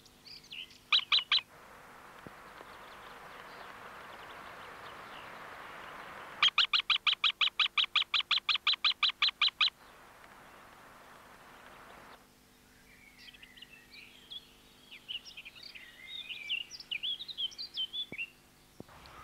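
Common buzzard chicks calling from a nest, sharp repeated chirping bursts in short rapid series, then softer scattered high calls over a steady background hiss.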